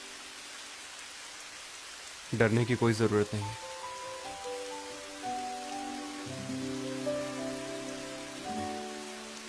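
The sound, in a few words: rain falling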